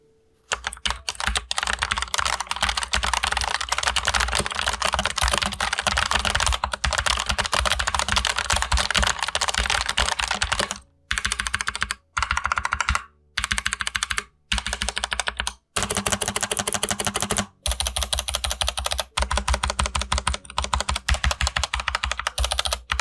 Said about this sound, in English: As we can see from the sound test, there is quite a bit of variance between the modifier keys